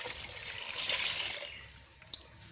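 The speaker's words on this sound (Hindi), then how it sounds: "और इसमें अब पानी डाल देंगे," Water splashes and trickles steadily into a cooking pot holding onion pieces for beef trotters, close by, tapering off with a few final drips.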